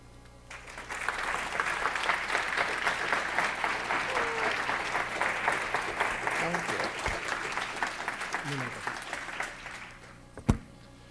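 A conference audience at a trauma summit gives a sustained round of applause after a keynote talk on creating sanctuary, the clapping rising quickly, holding steady and dense for about nine seconds, then fading out.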